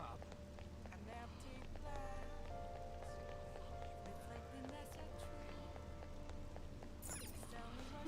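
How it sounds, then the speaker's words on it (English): Steady rain falls in a Persona 5 Royal game scene, a soft continuous patter under background music with faint tonal lines, no talking. "When's the rain gonna let up?"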